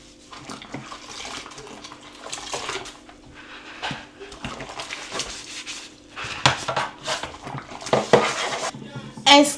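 Pots and pans clatter and clank repeatedly in a home kitchen during cleanup, with cutlery rattling and water running from a tap, the bangs growing louder and busier toward the end.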